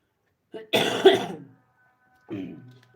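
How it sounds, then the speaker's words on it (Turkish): A few short, harsh coughs close to the microphone, a quick burst then a pause and one more cough, with quiet around them. "bu öksürüklere sizi maruz bıraktığım için özür diliyorum"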